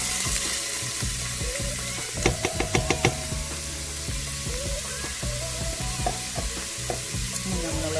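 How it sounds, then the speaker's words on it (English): Onions sizzling and sautéing in a preheated pot for cheddar broccoli soup, a steady close frying hiss broken by a quick run of sharp knocks and occasional stirring clatter. "as soon as I put in the onions, it's going to start to sizzle"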